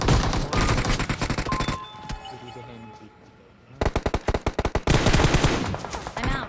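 Rapid bursts of automatic gunfire in the mobile battle royale game PUBG Mobile, loud sprays of shots before and after a short lull with faint game sounds.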